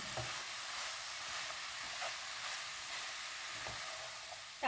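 Onion and pepper frying in a pan, a steady, even sizzle hissing throughout with a few soft stirring scrapes, fairly quiet and close.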